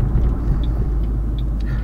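A turbocharged 3V Ford Mustang GT making nearly 500 wheel horsepower rumbles steadily from inside the cabin while driving, a continuous low engine drone throughout.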